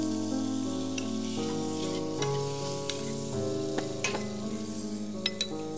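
Shrimp with chopped onion sizzle and fry in a pan, a constant crackling hiss with occasional stirring clinks, close and steady, with a background of sustained tonal notes.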